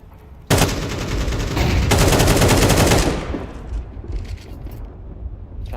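Rapid, loud automatic AK rifle fire in a Counter-Strike match, a sustained burst of dense cracking shots lasting a few seconds before cutting off into quieter game ambience.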